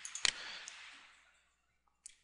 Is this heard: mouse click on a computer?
yes